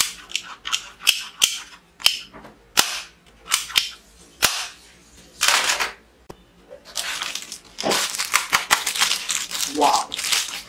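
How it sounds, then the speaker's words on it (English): A realistic .357 police-style toy pistol fires a string of sharp cap-gun bangs, irregularly spaced and close, with clicking mechanism and ratcheting sounds between shots and a dense burst of rapid cracks near the end. "357 realistic police toy pistol."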